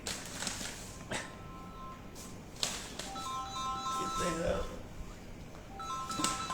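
A phone's electronic ringtone sounds in short repeated tonal bursts over a noisy room, partly buried under a background murmur and scattered clatter.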